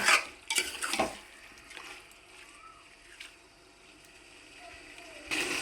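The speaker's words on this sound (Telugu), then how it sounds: "ఇందులో కడుక్కు పెట్టుకున్న చికెన్ వేసేసుకుందాము ఈ చికెన్ బాగా మగ్గనిద్దామండి నూనెలో" Washed chicken pieces go into hot oil in a pot for chicken pulao, giving a few splashy stirring scrapes and a soft sizzle at close range, with no voice over it.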